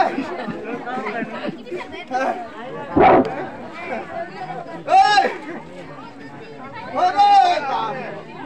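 A dog barks a couple of times, short sharp calls rising above the constant crowd chatter and voices at an outdoor village social drama performance.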